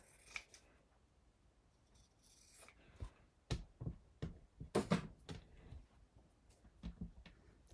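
Scissors snip the corners off a Tim Holtz fabric tab for a junk journal, giving a series of close, crisp cuts, a few isolated and then a quicker cluster, fairly faint against a quiet room.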